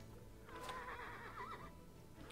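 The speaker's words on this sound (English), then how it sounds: "Oh, it sounded like a horse." A horse whinnies in the Planet Zoo video game, a single wavering neigh of about a second set over a steady bed of zoo ambience, with no talking.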